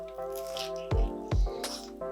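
Close, wet squishy bites into a barbecue-based deep pan pizza come in two soft thumping chomps, with moist mouth sounds and a faint background tone between them.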